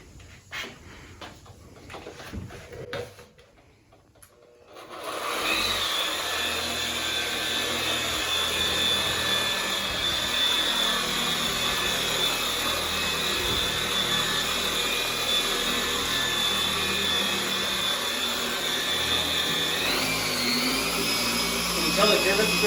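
A car paint polisher whirs at a steady high pitch for most of the stretch during paint correction, starting up after a short quieter lead-in and running loud and continuous.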